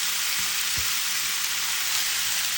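Sisig sizzling hard in a Korean pan standing in for a sizzling plate: a loud, dense, unbroken hiss of hot fat crackling up close, with a faint low knock or two beneath it and no speech.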